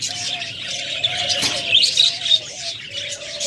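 A breeding pair of lutino pet birds sitting in their nest pot gives close, repeated chirps and squawks, with a few brief bright tweets layered over a soft background.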